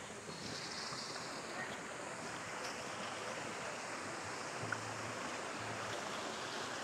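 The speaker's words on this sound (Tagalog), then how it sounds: "Ganda ng tali ng tubig." Steady rushing river water flows without a break over large rocks near a dam, a broad, even wash of sound with no voices.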